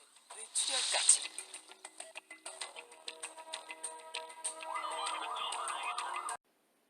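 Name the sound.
ambulance siren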